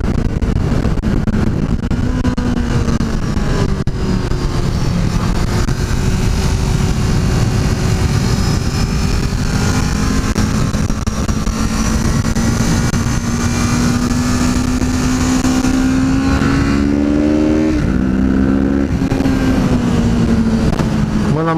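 A Kawasaki Z650 motorcycle engine drones steadily and loud during a test ride, its pitch climbing slowly through the gears with a brief dip and rise near the end.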